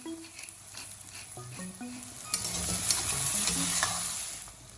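Egg fried rice with soy sauce, vinegar and spring onion being stirred in a hot pan, scattered spatula knocks and scrapes at first, then a louder sustained sizzle with rhythmic stirring, close up and without talk.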